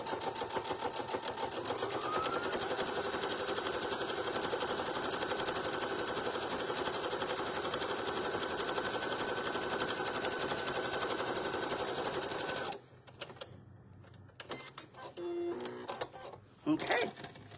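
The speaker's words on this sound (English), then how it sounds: "just sew a straight seam right down the center of all of these little sets, panel sets" A sewing machine runs a long, steady straight seam on a patriotic rag table runner for about twelve seconds, loud and close, then stops, leaving scattered handling clicks and fabric rustles.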